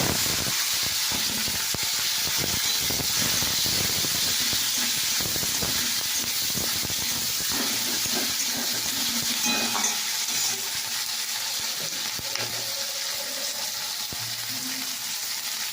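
Tomato and green chili dropped into hot oil with panch phoron, a loud hissing sizzle that bursts up at first and then settles into a steady, gentler crackle.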